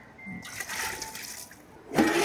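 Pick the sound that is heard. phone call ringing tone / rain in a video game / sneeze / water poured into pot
water poured into pot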